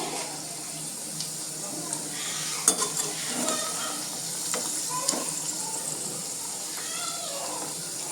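Mutton keema kebabs fry in a pan over a high flame, giving a steady close sizzle broken by occasional clinks and scrapes of a utensil against the pan.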